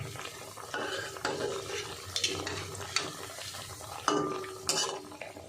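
Oil sizzles softly and steadily as sweet-potato jalebi fries, with light scraping and clinks while the pieces are turned.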